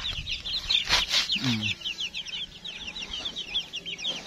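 Kabir free-range chickens, a rooster and hens with chicks, clucking close by, with a short low call partway through and busy bird chatter carrying on steadily in the background.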